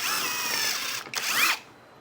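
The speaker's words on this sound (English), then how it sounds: "we're going to pre-drill this hole here" A power drill pre-drills a hole in wood during a woodworking build: a close, loud whirring burst that dips briefly, then spins up again before cutting off.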